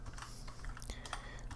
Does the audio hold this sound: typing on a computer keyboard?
yes